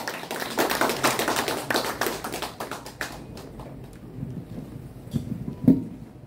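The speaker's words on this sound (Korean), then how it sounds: "큰 박수를 해주시면 고맙겠습니다" Audience applause at the opening of a calligraphy solo exhibition at a gallery in Insadong, a dense burst of many hands clapping that thins out into scattered claps and fades.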